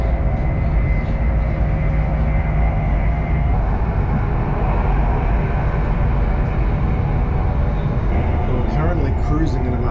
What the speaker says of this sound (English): Cruising at about 200k,